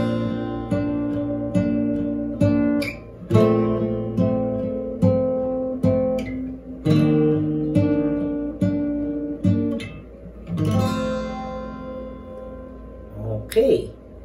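A guitar plays the repeating intro riff of a song, strummed chords and picked notes, steady and moderately loud, with a few sharp string scrapes and accents.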